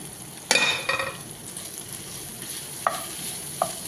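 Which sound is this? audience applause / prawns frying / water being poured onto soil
prawns frying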